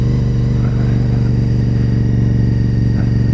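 A 2004 Honda RC51 motorcycle engine runs close and loud at a steady, even throb with no voices.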